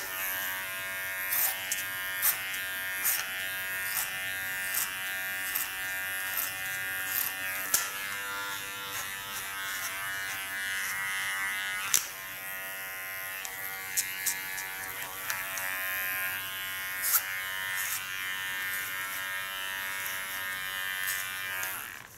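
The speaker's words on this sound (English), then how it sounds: "now I clean the contour with a small clipper of Kione" A small Kione hair clipper runs with a steady, close electric buzz while trimming the contour of an ultra-short haircut, its hum dipping and shifting slightly as the blade moves over the hair.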